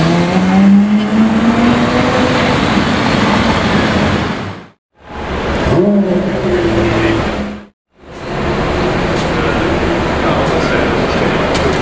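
A yellow Porsche Carrera GT supercar on French plates rolls past in a steady, loud drone with a rising engine whine, cut by two brief dropouts, while people talk over it.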